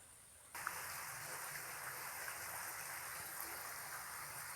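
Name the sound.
underground stream flowing at a limestone cave entrance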